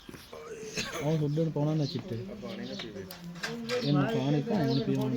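Racing pigeons coo close by in repeated throaty, rolling calls, with human voices murmuring alongside them.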